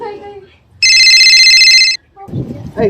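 An incoming call sets a phone ringing with one loud, steady electronic ring lasting about a second, close by, with people talking just before and after it.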